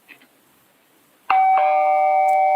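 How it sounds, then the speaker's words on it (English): A doorbell rings once, loud and close, with a sustained two-tone chime that rings on after a faint earlier sound. "The doorbell again already."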